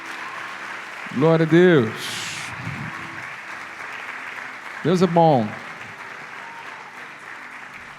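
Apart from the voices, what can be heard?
congregation clapping hands in praise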